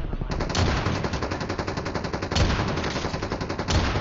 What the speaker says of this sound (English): There's someone shooting me.